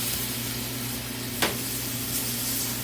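Pork stir-frying with ginger, soybean paste and broth in a pan, a steady close sizzle with a brief sharp hiss midway as liquid hits the hot surface.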